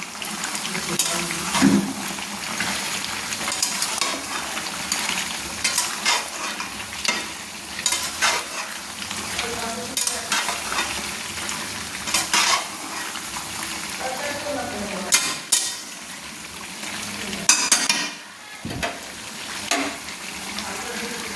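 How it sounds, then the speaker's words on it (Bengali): Mutton is stirred with spice masala in a frying pan, giving a continuous sizzle with repeated scraping and stirring strokes and a few sharper knocks against the pan. Someone talks intermittently over the frying. "যে মটনের মশলাটা রেখেছিলাম সেটা আমি দিয়ে দিচ্ছি। দিয়ে একটু নেড়ে নিচ্ছি।"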